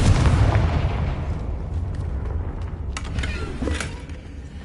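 A heavy rumbling blast from a Confringo fire spell in Hogwarts Legacy opens loud and slowly decays, followed by a few sharp crackling pops and bursts at moderate distance.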